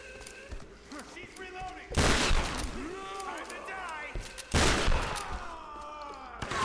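Gunfire erupts in Tomb Raider (2013) as enemies are shot, with two loud bursts of shots around two seconds apart, each trailing into scattered combat noise and game voices.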